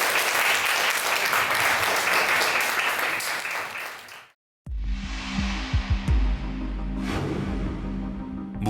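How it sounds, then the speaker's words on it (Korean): A festival crowd at the Hamyang Peace Festival breaks into dense, sustained applause for about four seconds, close and loud. It then cuts off abruptly into a low, droning hum with a few soft thumps. "한번 큰 박수 부탁드리겠습니다"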